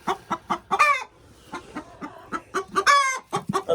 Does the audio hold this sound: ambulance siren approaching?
no